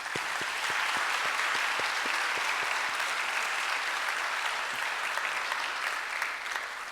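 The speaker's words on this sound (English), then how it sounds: "show them your appreciation by a round of applause." Sustained applause from a crowd at a Monash University graduation ceremony fills the whole stretch, steady dense clapping with a few sharper individual claps standing out near the start.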